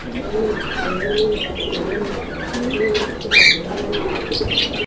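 Pigeons for sale, a pair of grizzle birds among them, coo softly in repeated low, throaty calls close by, with faint chirps and a brief flutter, over steady background noise.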